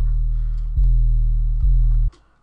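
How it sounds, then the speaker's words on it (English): Deep, booming 808 bass notes, three long sustained hits in a row with sharp attacks, dry and heavy, then cutting off. "So I'll just show you the 808 without."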